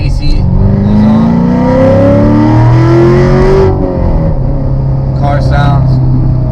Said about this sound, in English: car sounds phenomenal